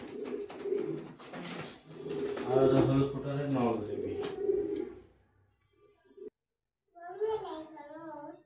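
Pigeons offered for sale coo in a few soft, low, rhythmic bursts, with a childlike voice sounding during the first half of the clip and a short quiet gap before a final burst of cooing near the end.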